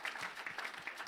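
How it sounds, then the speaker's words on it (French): A church congregation claps in praise to the Lord during a worship service, a brief, dense wash of applause heard at a moderate distance. "Give a good clap offering unto the Lord."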